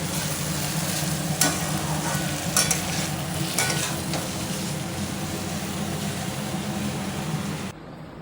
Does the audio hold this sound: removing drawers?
no